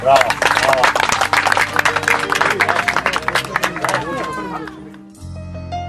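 An audience claps loudly at a state exhibition of Macedonian shepherd dogs (Karaman), a dense patter of many hands that thins out and fades after a few seconds, with crowd voices under it.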